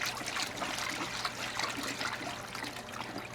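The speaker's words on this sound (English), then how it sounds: "We're just going to just pour that in there." Rinseless wash liquid poured into a 2.5-gallon bucket, a steady close trickling and splashing stream of liquid that runs continuously without pause.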